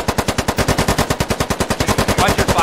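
Sustained automatic gunfire from the tactical shooter game Squad, a fast, even, loud burst of close rounds that runs unbroken for nearly three seconds.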